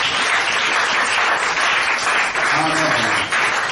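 A church congregation applauds in a dense, steady roar of clapping that fills the room, with a voice faintly heard beneath it.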